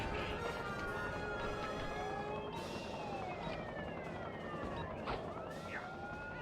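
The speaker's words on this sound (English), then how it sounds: "I really do not need those sirens constantly going off in my ears" Police sirens wail and overlap continuously in The Incredibles PS2 video game, several rising and falling tones blending into a loud, busy cacophony with game noise beneath.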